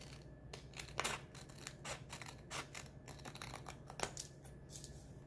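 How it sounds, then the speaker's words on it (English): Scissors snip through leftover paper trimmed from a half-face drawing, a series of short, crisp cuts spread irregularly over several seconds, fairly quiet with no talking. "I'm also going to cut off the extra little bit of paper down at the"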